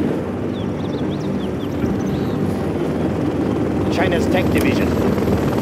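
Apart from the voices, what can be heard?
Helix helicopter in video game Command & Conquer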